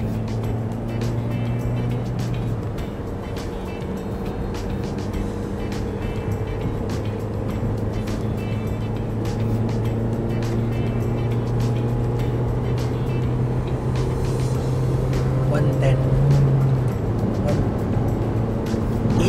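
A 2016 Toyota Vios E with manual transmission drones steadily while driving, its low engine hum shifting in pitch over the run, with a person talking over it throughout.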